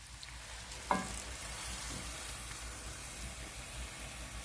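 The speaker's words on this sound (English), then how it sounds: "Now I'm going to add a total of 3 cups of milk to this. And you want to have a continuous stir." Milk poured into sizzling sausage gravy in a pan while it is stirred continuously, a steady frying hiss with a brief splash near the start, no talking.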